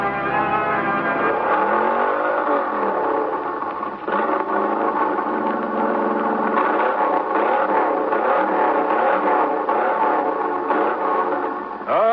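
Car engine revving hard at full throttle as a radio drama sound effect, a loud continuous roar with rising and falling pitch sweeps and a brief dip around four seconds.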